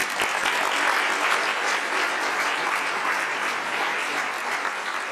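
Legislature members in the BC chamber applauding Team Canada rugby, a steady, dense wash of clapping that continues evenly throughout.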